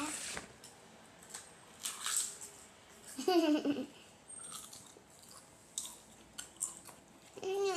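Someone chews and slurps ramen noodles close up, with soft crunchy bites scattered between quiet talk and light laughter.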